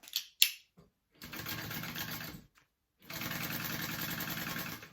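Domestic sewing machine stitching vinyl for a tote bag: a few quick clicks, then two bursts of rapid, rhythmic mechanical chatter separated by a pause, close and clear with no talk.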